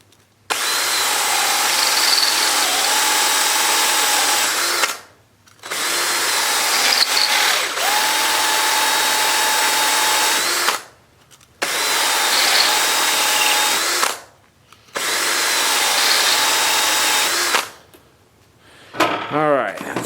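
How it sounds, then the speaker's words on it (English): A power tool whirs steadily while cleaning out the threads of a nut on a Cub Cadet LGTX1054 mower deck, running in four long bursts of several seconds each with short pauses between them, close and loud. "So I'm going to clean the threads out on this one, on this nut here."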